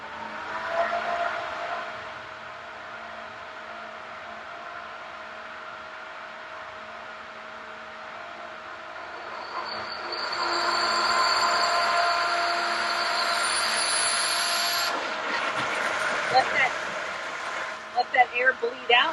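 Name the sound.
Pentair pool pump self-priming, air bleeding from filter cartridge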